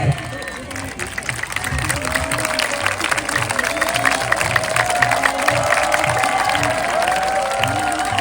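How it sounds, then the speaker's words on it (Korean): Large crowd at an outdoor religious testimony gathering in Olympic Park claps and cheers, a long, steady roar of hands mixed with raised voices and a speaker talking over it. "다시 한번 우리 박수 부탁드립니다"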